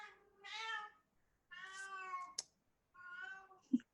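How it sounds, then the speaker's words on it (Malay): A cat meows three times in separate drawn-out calls, close and clear against a quiet room, with a short sharp click or thump between the second and third calls. "Serabutlah kucing."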